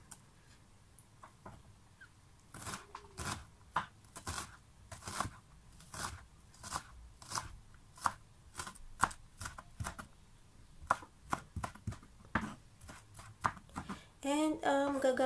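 An onion is cut with a knife on a board, a series of distinct, fairly close chops at an uneven pace, with a brief rustle near the end.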